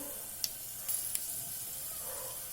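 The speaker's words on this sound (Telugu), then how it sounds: "కొంచెం మినపప్పు, ఆవాలు, జీరా వేయాలి. కొంచెం ఫ్రై అవ్వాలి." Urad dal, mustard seeds and cumin frying in hot oil for a baby potato curry: a faint, steady high sizzle with a few sharp little pops and crackles close by.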